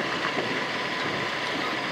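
A loaded freight train rumbles past nearby along a riverbank, a steady dense roar of wheels and wagons with no voices.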